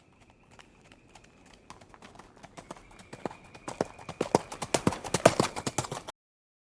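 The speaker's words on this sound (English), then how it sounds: "H is for horse." Horse hooves clip-clop alone, starting faint and growing louder and quicker as the animal approaches, then stopping abruptly.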